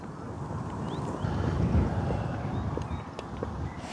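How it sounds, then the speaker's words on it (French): Wind gusts steadily across an outdoor microphone beside water while someone fishes for roach, a continuous low rumbling buffet with faint, sparse background noises and no talk. "le vent est un peu gênant quand même"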